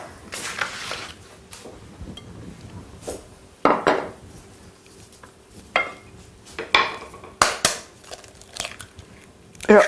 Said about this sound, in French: Ensuite, nous allons casser les œufs.